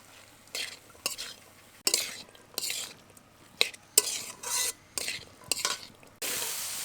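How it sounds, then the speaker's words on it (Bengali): Banana stem and potato stirred with spices in a pan, a spatula scraping and scooping in irregular bursts over a faint sizzle, close and moderately loud, with occasional clinks against the pan. "এবার খুব ভালো করে মশলার সাথে নেড়ে নেব।"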